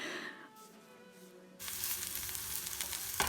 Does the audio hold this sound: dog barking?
no